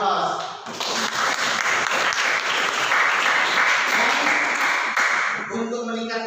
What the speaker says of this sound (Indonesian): kepadanya kita beri aplaus